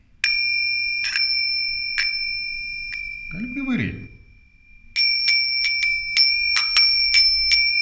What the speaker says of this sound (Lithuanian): yra žmonės, kurie nusiperka tokį skambutį, varpelį ir taip daro.